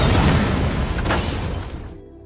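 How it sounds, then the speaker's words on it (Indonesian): A missile blows up several cars in a film explosion: a loud, broad blast with crashing debris that fades out over about two seconds. "Nick yang langsung menembakkan rudal ke arah Victor, sehingga membuat beberapa mobil di sana meledak"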